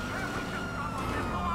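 Police car siren in GTA 5, a steady wailing tone sustained throughout at moderate level over continuous game background noise.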